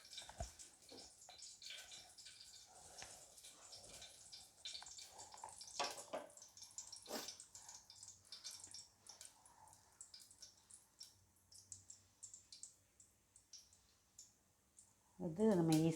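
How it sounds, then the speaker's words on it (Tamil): Mustard seeds spluttering in hot oil in a cooker while making a brinjal and potato stir-fry, heard as scattered sharp crackling pops over a steady low hiss, with a louder clatter near the end. "கடுகு போட்டுக்கிறேன். கடுகு தெறிக்கட்டும்."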